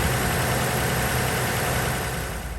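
A 3.5-liter V6 engine of a 2020 Toyota Tacoma idles steadily nearby, a constant low rumble with broadband mechanical noise and no other sounds.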